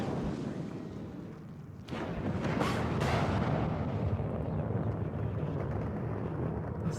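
Mortar rounds landing in a Warno battle, heavy rumbling blasts that swell in after a couple of seconds and roll on as a dense, continuous barrage.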